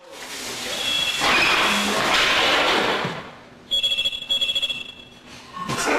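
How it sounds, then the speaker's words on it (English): A telephone rings at a wedding: after a loud burst of rushing noise, the bell trills in quick repeated pulses for about a second, then stops, followed by another short noisy burst. "for some reason the phone rang back"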